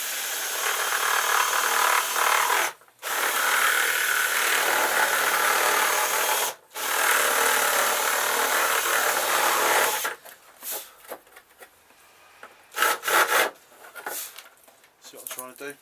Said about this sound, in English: I can use this drill as a file.